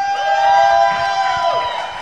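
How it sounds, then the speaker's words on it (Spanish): Audience at a live music show, loud cheering and whooping from a crowd, with shouts rising over a sustained roar and fading slightly toward the end. "fuerte el aplauso"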